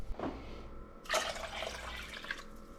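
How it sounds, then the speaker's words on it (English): Two cups of water poured into a pickling brine for peppers: a brief splash, a pause, then a steadier close pouring stream for nearly two seconds, with no voices. "Now I'm going to go grab 2 cups of water."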